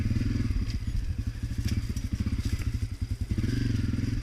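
A Honda CRF250F dirt bike rides along a trail, its single-cylinder engine chugging in a fast, even low-pitched putter near the listener, with slight revving and clattering over bumps.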